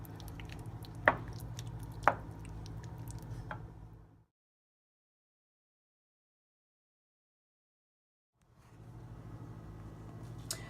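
Spoon stirring thick chili in a pot, soft wet squishes with a couple of sharp clicks, then a pause of silence before the quiet stirring resumes.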